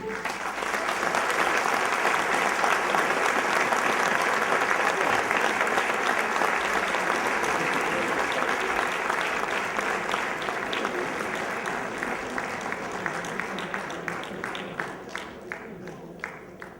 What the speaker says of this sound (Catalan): Demano un fort aplaudiment pel senyor Antoni Sant Agustí